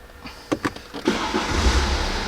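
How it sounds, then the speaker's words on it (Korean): A BMW 520d, nine years old and fitted with a new AGM battery, cranks and starts: a few sharp clicks and whirs, then the engine catches and settles into a steady, close idle. "제발 시동 걸려라"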